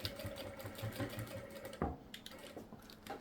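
A sewing machine hums and chatters steadily while stitching a decorative stitch on a fabric iron caddy, faint and continuous with a soft thump partway through.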